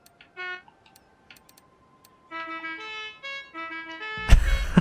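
A customizable car horn in the video game Forza Horizon 3: a few short honks and toots in bursts, some brief beeps and a longer tonal horn blast, ending with a louder noisy burst.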